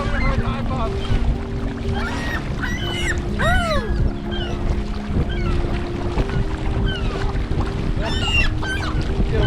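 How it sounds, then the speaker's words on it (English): Canoe on Pellet Lake in the Canadian wilderness on a windy day, with a steady broad wash of wind and water throughout, plus geese honking and calling in the background and some speech. "The goal today is going to be to paddle Pellet Lake"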